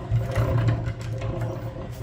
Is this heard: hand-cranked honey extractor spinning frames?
yes